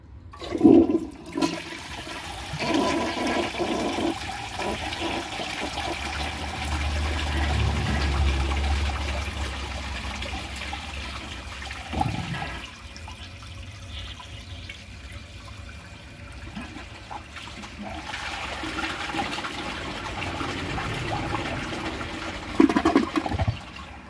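A 1984 Kohler Cayuga toilet flushes a washcloth and a grocery bag: a loud rushing flush swirls and drains, followed by a long, quieter refill hiss and trickle.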